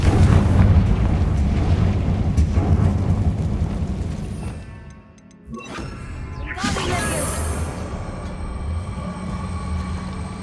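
The Confringo fire-blast spell in the Hogwarts Legacy video game goes off as a booming explosion with crackling debris, followed by a sharp sweeping whoosh and a bright burst, amid game background sound.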